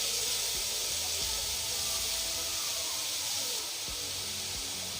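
Macaroni frying in oil with black pepper and salt gives off a steady, close sizzling hiss with faint scraping clicks, with no voices over it.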